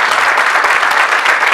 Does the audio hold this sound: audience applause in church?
yes